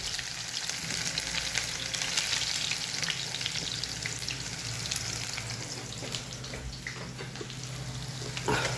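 Chopped garlic sizzles in hot oil with cumin in a pan while a spatula stirs it. A steady, loud frying hiss continues throughout with scraping strokes mixed in.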